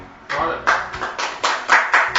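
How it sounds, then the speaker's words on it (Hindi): An audience at a Diwali poetry gathering claps for a poet in uneven waves of applause, close and fairly loud, with swells and dips and a voice heard among it. "एक बार जोरदार तालियां त्रिलोक जी के लिए"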